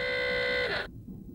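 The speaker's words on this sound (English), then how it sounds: "That's the alarm! And it sounds like it's for real!" A loud, steady electronic alarm tone rings on a ship, a bright sustained beep that holds for under a second and then cuts off abruptly, leaving only low background rumble.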